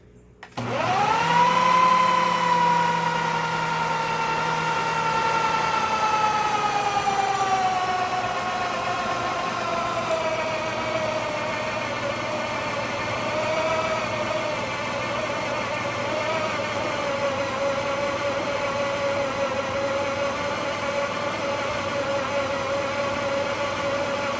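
Steady whirring motor of a food processor mixing festival dough for about 30 seconds, a high whine that settles lower as the dough mixes, loud and close.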